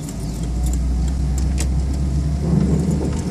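A car in a low gear on a downhill stretch during a driving lesson, its engine a steady loud drone with road noise and faint jingling, no talk over it.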